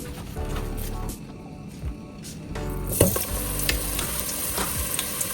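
Onions fry in a pan for qeema biryani over raised heat, giving a steady close sizzle broken by scraping and clattering stirs, growing louder and busier partway through.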